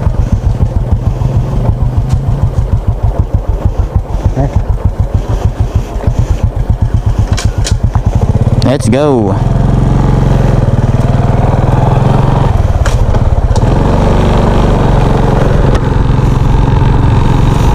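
A motorcycle engine rumbles steadily up close, throttle revving and pulsing, with a brief spoken phrase partway through.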